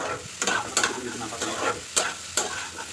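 Potatoes and eggs frying in a pan are stirred with a series of sharp scraping strokes roughly every half second, loud and close over a continuous sizzle.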